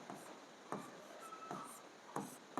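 Pen writing an equation by hand on paper, a soft scratchy stroke sound in short bursts with several sharper taps between, close and quiet, no talk.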